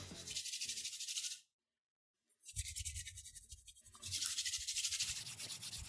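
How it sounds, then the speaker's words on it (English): Hands rubbing together close to the mic, producing loud dry hissing swishes in rhythmic strokes, a short silent pause, then more brisk rubbing; no talk. "it's just me rubbing my hands together"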